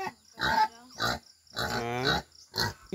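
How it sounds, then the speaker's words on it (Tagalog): A pig on a rural farm gives four low, throaty grunts in an uneven rhythm, close to the microphone and fairly loud, with near silence in between. "Baboy."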